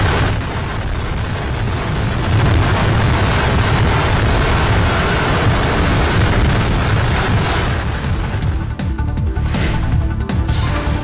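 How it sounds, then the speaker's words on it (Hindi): A dense barrage of fireworks at the Thrissur festival in Kerala, a loud, continuous roar of overlapping booms and crackles with no clear gaps between blasts. "केरल के त्रिचूर महोत्सव में हुई जबरदस्त आतिशबाजी।"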